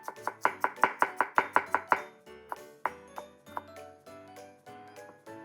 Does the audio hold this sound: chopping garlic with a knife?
yes